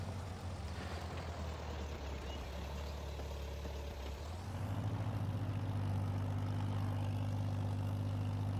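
A new Farmall tractor engine from Farming Simulator 22 idles with a steady low drone, settling into a louder, fuller hum after a few seconds, with no talking.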